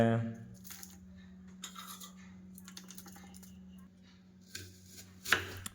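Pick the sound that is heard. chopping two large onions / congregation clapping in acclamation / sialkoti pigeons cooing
chopping two large onions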